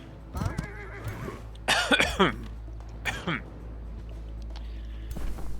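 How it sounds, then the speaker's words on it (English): A few short, harsh coughs and throat-clearing bursts, close to the microphone, separated by pauses over a low steady hum. "I would really love it if this cough went away."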